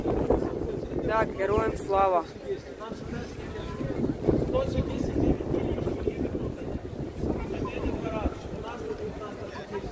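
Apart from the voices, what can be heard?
strong wind blowing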